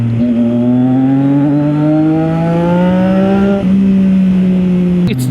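A Triumph Daytona 660 motorcycle engine revs up steadily through its range, its pitch rising smoothly, then dropping and climbing again briefly. The sound is loud and close, with no voices.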